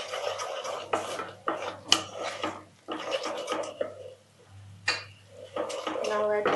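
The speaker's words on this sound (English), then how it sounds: "Mix everything together." Ingredients for a pomfret fish dish with chilli and coriander being mixed together in a bowl, with scraping and clinking in irregular bursts close by and brief pauses between them.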